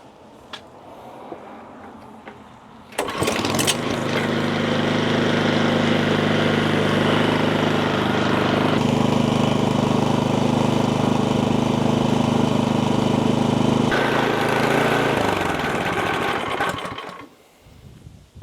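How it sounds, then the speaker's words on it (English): A snowblower engine fitted with a runtime meter starts and runs at a loud, steady drone close by for over ten seconds, shifting pitch partway through, then cuts off and fades. "the H is blinking when the engine is running"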